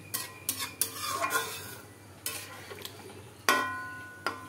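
A spatula stirs jackfruit curry (echor kalia) in a pan after water has been added, making sharp metallic scrapes and clanks over a soft sizzle, with loud knocks and quieter gaps in between.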